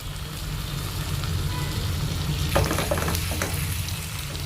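Chopped banana flower frying in spiced masala in a pan, giving a steady close sizzle with a few scraping stir strokes toward the end; no talk.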